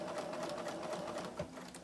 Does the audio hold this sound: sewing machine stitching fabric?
yes